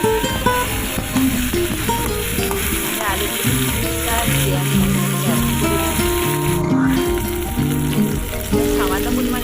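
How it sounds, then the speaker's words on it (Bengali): Potatoes dropped into a pan of browned fried onions set off a loud, steady sizzle and crackle, with stirring scrapes and a brief hiss partway through, no voices. "পেঁয়াজটা ভাজা ভাজা হয়ে গেছে। এবার আমি আলুগুলো দিয়ে দেবো।"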